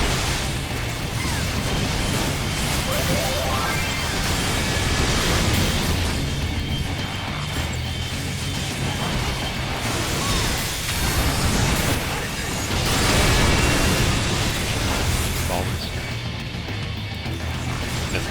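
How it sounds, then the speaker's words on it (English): Bomb explosions during the Titan Extreme battle in Final Fantasy XIV, heard as a dense, continuous wash of booms and crashes with bursts swelling and fading across the whole stretch, loud and noisy throughout. "It's better to say towards the outer edge of the bombs because the explosion radius is huge."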